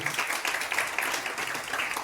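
An audience at a business plan presentation claps for foreign tour achievers, a loud, slightly uneven burst of clapping with individual claps standing out rhythmically throughout the short stretch.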